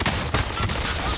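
Rifle gunfire in a video game: a dense, sustained burst of loud, rapid shots that rings continuously through the whole moment, with no talking.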